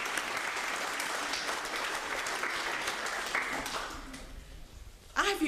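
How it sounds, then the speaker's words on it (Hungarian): Audience applause at a health talk, steady broadband clapping from a crowd sustained for about four seconds, then fading before a voice briefly begins speaking. "Give yourself a big applause."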